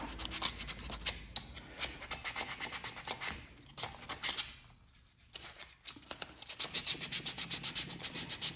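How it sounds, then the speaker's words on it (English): A Glock pistol frame is sanded by fingertip, producing a continuous close, scratchy rubbing in rhythmic strokes with a brief quieter pause midway. "Your next step is gonna be to kind of sand this down, and I just always use my finger, kind of just scrub it."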